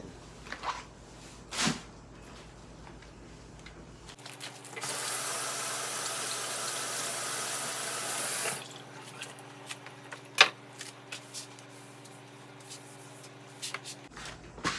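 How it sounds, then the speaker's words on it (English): Kitchen tap water runs steadily into a sink for about four seconds as cabbage is rinsed while cooking, with a few light knocks and handling sounds before and after; no one speaks. "And I'm going to wash again."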